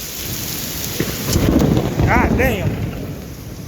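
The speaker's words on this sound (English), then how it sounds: "Shit's coming down hard. Thunder is booming pretty good" Heavy thunderstorm rain pounds steadily around a town car while deep thunder rumbles and booms close by, and a voice briefly swears under the downpour.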